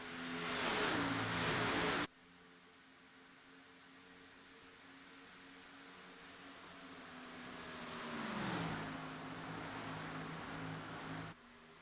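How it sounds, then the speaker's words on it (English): Race car tires losing grip during a VSPEED 200 cup series playoff race at Pocono in a racing video game, a steady engine drone with a rising, sliding whine as the car gets loose, no talking. "you can hear the tires starting to lose some grip"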